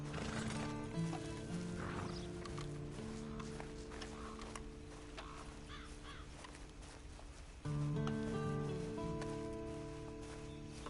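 Horse whinnies and neighs in Red Dead Redemption II online, set over a steady bed of game music and ambience, with a louder swell near the end and no talk.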